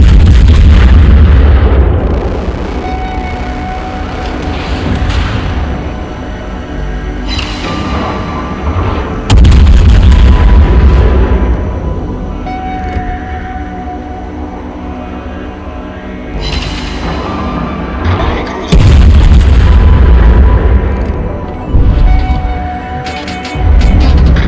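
Heavy naval guns of the Tier 11 German cruiser Clausewitz fire HE shells in World of Warships, loud booming salvos at roughly ten-second intervals, each followed by a rumbling tail over steady battle ambience.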